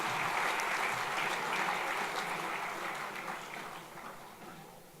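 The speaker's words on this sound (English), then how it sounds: "Please give him a round of applause." Audience applause at the 2013 Kennedy Awards ceremony, a dense, steady wash of many hands clapping that fills the hall and tapers off slightly toward the end.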